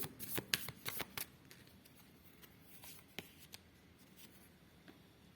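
A deck of cards being shuffled, with a quick burst of riffling and snapping at the start, then softer scattered rustles and taps, close and quiet with no talking.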